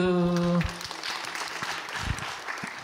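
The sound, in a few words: audience applause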